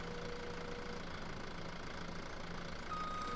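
A skid steer's engine idles steadily in Farming Simulator 17, a low, even mid-pitched rumble with slight knocking that carries on unbroken and alone.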